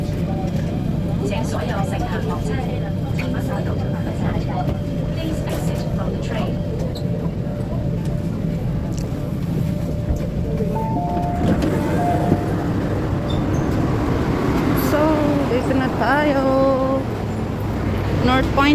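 Hong Kong MTR train running and slowing into a station, steady low rumble and rail noise with recorded bilingual announcements and chimes, and people talking nearby.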